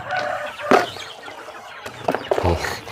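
Free-range village chickens in an open pen, clucking in short, irregular bursts at moderate distance, with a louder squawk or flap partway through and a busy run of clucks near the end.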